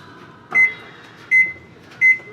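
Three short, clear electronic beeps from an oven's control panel as the bake setting at 275 degrees is keyed in, evenly spaced over a faint room hum with no talking.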